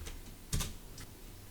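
Typing on a computer keyboard during a Linux command-line session: a few quiet taps followed by a short, louder cluster of keystrokes and one more light tap, close up and alone.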